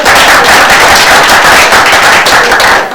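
Loud, dense applause from a large crowd, a continuous wash of many hands clapping at once that carries on steadily for several seconds before easing slightly.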